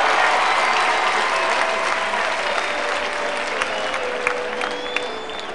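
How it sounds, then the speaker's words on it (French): Warm applause from guests at a couple's celebration, thick continuous clapping that starts strong and eases slightly over several seconds, a few sharper claps standing out near the end. "vous souhaite la chaleureuse bienvenue en ce jour mémorable du 26 septembre 2021, sous vos applaudissements"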